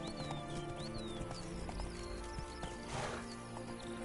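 Roach, a horse in the video game The Witcher 3, galloping with a steady, rhythmic clip-clop of hooves over continuous game ambience, with birdsong-like chirps and a brief rushing swell partway through.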